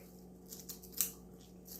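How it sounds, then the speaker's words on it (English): Kitchen scissors snip through onion ends in a few quick close cuts, faint against a low steady hum and quiet room. "So I'm gonna put a little bit of them with my scissors."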